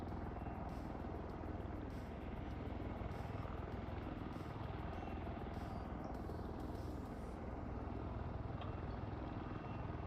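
The tiltrotor engines of a V-22 Osprey in a flight simulator game give a loud, steady, dense rotor drone with a faint rapid chopping pulse, continuous throughout with no talking.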